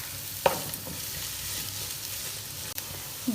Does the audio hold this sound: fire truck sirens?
no